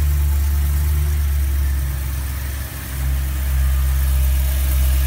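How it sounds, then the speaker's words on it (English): A cold 2009 BMW M3 coupe idles in a showroom at slightly raised revs, a smooth, quiet, steady low hum with a brief dip near the middle, heard alone. "The RPMs are a little bit higher because the engine is cold and it sounds very, very quiet."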